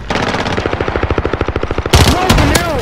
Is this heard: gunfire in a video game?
yes